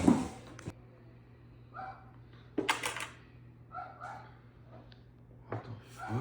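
A dog barks and yips in a kitchen, with a loud burst at the start, then several sharper barks and whimpers scattered over a steady background hum, fairly close.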